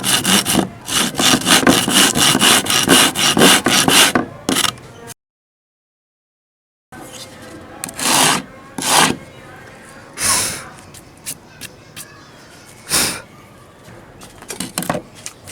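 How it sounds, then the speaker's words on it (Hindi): Wood is rubbed by hand with 80 grit sandpaper in rapid rasping back-and-forth strokes, then after a short silence comes a slower run of scattered scrapes, close up with some talk in between. "सबसे पहले हम 80 नंबर रेक मार के ऊपर इसको घिसेंगे।"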